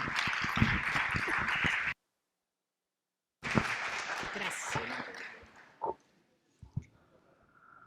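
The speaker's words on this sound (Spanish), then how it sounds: "Recibimos a Marta García con un aplauso" An audience at a lecture session bursts into applause to welcome a speaker, a dense stretch of clapping that cuts out briefly, resumes and then thins to a few scattered claps.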